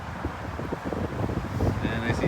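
Strong ocean wind buffets the microphone at a chilly beach in Santa Monica, with blowing sand, a steady broadband rush carrying on throughout and rising slightly toward the end.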